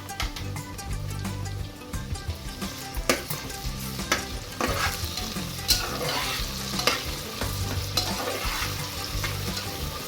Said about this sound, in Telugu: ఇది వేగుతూ ఉండగానే ఇందులో 1 స్పూన్ అల్లం వెల్లుల్లి పేస్ట్ వేసుకుంటున్నాను.